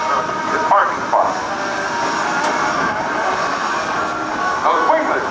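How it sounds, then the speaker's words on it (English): A C-17 Globemaster III jet taxis at an airshow at NAS Oceana, its engines giving a steady loud whine and rumble at middle distance, with faint crowd sounds mixed in. "He's taxiing back now to go to his landing."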